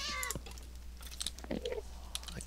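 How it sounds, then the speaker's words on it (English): A cat in the Minecraft modpack FTB Regrowth lets out a short meow at the start, faint under low background noise and scattered small clicks. "A cat."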